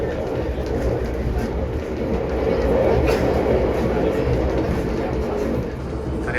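Inside the Argo Wilis panoramic train running at night toward Bandung, a steady, dense rumble and rolling clatter of the carriage on the rails fills the space continuously and at close range.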